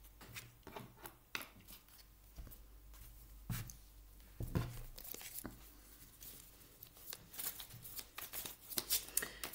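Tarot cards shuffled by hand for a reading, a series of close, crisp riffling and slapping bursts in irregular rhythm, heard alone without talk.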